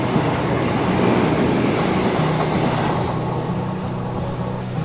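The morning Kasaragod Vande Bharat Express rushes past during monsoon rain, a loud, steady rumbling roar with a low hum that fades slightly toward the end, heard alone without talk.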